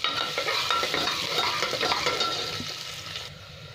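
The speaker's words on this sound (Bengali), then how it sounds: "এখানে পেঁয়াজটা আমার লাল লাল করে ভাজা হচ্ছে।" Chopped onions frying in oil in a pan, making a loud, continuous close sizzle with busy crackle and stirring throughout, and no one talking.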